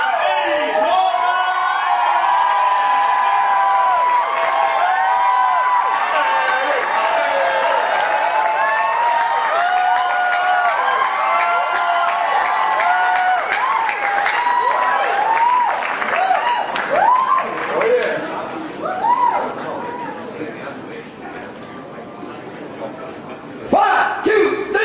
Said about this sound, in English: I want you to clap your hands as loud as you can as we welcome him to the stage.